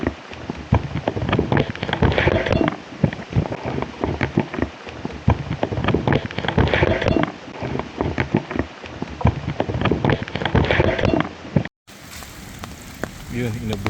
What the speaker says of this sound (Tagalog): Yun, inabutan tayo ng ulan dito.